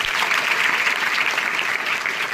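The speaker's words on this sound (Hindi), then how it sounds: "जोरदार ताली के साथ" A village audience claps loudly and steadily in celebration of a local woman selected as a deputy superintendent of police, a dense, even wash of applause with no pauses.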